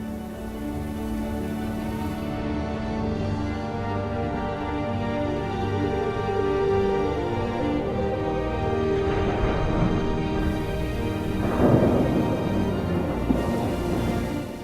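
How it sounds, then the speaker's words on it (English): A thunderstorm over the Mongolian steppe brings a steady roar of heavy rain, with a low rumble of thunder building toward the end, alone and fairly loud throughout. "The downpours can be massive."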